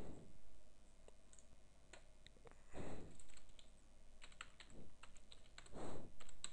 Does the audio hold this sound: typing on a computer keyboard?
yes